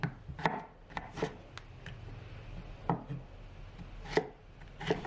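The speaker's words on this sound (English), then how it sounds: "Cut cherry tomato in half and cut cucumber into bite-sized" Knife chopping cucumber into bite-sized pieces on a board: a series of crisp, irregularly spaced cuts, some in quick pairs, close and fairly loud over a quiet room.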